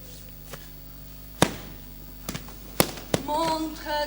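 Fireworks crack in a few sharp, loud bangs spaced apart, the last followed by whistling and fizzing, during a village ritual of tying a man to a fireworks castle.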